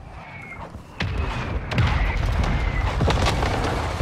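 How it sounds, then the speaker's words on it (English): Mortar strike in a battle royale game: several dull booms and thuds land one after another over a rumbling battlefield background, moderately loud and fairly distant, with no talk. "Mortar strike on the way."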